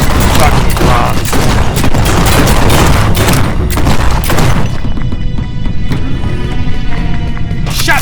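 Heavy, rapid shotgun blasts from first-person game combat in G2 Fighter, loud and dense with booming reports over a constant low rumble, thinning into a quieter stretch with scattered shots near the end.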